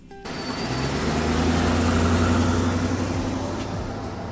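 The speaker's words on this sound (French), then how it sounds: "vous entendez le bruit d'un moteur de voiture qui provient de l'allée." A car engine runs in a driveway outside a house, a steady close mid-to-low rumble that starts abruptly and holds at an even level throughout, with no voices.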